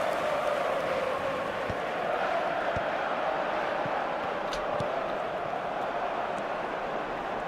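Steady stadium crowd roar from an eFootball match fills the scene, a dense continuous murmur with no clear peaks of cheering, holding at an even level throughout.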